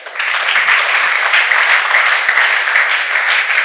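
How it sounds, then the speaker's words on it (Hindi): Loud, dense applause from an audience at a motivational talk for class 9 to 12 students, a steady wash of many hands clapping that holds evenly for several seconds before stopping abruptly. "उन सब के लिए भी एक बार जोरदार ताली"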